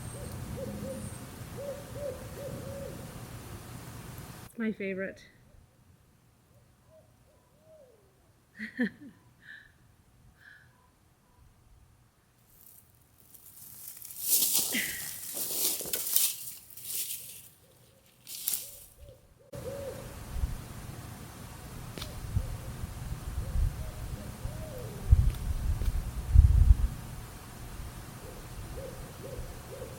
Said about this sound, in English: The owls are talking to each other. I hope you can hear some of that.